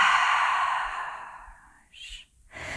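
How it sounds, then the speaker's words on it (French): A long, steady breath pushed out through the mouth during a French-guided yoga routine, a soft airy rush that fades after about two seconds, followed by a brief second breath sound. "Expire par la bouche."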